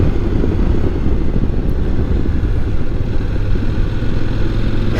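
A CF Moto 800 MT motorcycle engine lugs along at low revs in fourth gear through a string of bends, a steady loud drone mixed with wind rush and no speech.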